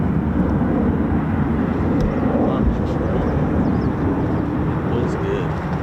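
A US Air Force F-15 or F-35 fighter jet taking off at sunset from RAF Lakenheath, a loud steady broadband engine roar filling the whole stretch, with people talking over it.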